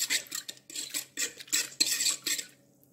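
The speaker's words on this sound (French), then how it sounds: "Ajoutons la levure et mélangeons très bien." Yeast and sugar being mixed in a bowl for kebab bread dough: a quick series of about eight rhythmic scraping strokes with a light clink of a utensil against the bowl, close and fairly soft, with no talk.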